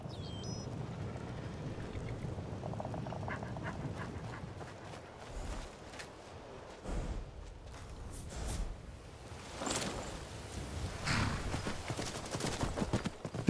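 Horse hooves clip-clop steadily during a short ride in the video game Skyrim, with uneven footfalls over a low ambient bed and occasional snorts, moderately loud and with no talking.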